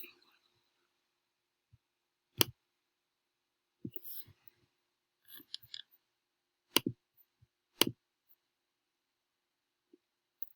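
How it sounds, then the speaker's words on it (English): Scattered sharp clicks of a computer mouse, close and isolated, spaced irregularly with long quiet gaps between them and faint soft murmuring at times. "Sorry if my clicking sounds is too loud"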